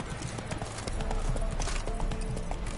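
Roach the horse galloping in The Witcher 3 video game, a continuous rumbling rhythm of hoofbeats under a dense ambient game soundscape, moderately loud throughout.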